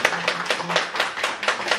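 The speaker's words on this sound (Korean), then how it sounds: "박수 한번 드리겠습니다" Audience at a Korean literary society author talk and book signing clapping for the visiting authors, a short burst of steady, moderately close applause with rhythmic hand claps.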